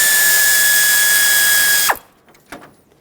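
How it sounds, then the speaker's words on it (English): A ratchet wrench clicks steadily and loudly while backing out an 8mm bolt that holds the AC condenser to the radiator on a 2013-2020 Nissan Pathfinder. The ratcheting stops abruptly near the end, and a few faint handling knocks follow. "Now I want to remove the 8mm bolt holding the AC condenser onto the radiator so I can separate the two."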